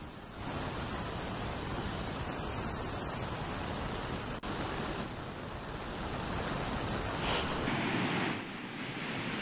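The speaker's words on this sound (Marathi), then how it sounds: "तो तलाव गेल्या 30 वर्षांच्या काळामध्ये पहिल्यांदाच ओव्हरफ्लो झालेला आहे" A lake overflowing in May after heavy rain, the first time in 30 years, sends out a dense, continuous roar of rushing water with wind buffeting the microphone throughout.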